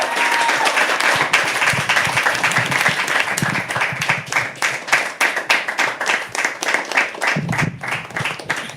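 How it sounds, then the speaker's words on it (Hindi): An audience applauds a poet at a live poetry open mic, with steady, dense clapping throughout that thins slightly toward the end, with a brief low murmur. "खूबसूरत सी तालियां बजा दीजिए अंकुर के लिए"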